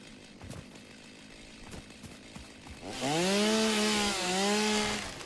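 A chainsaw in the video game Satisfactory revs up and cuts through trees, its engine whine rising and bending in pitch, loud and close, after a few seconds of quieter ambient game sound.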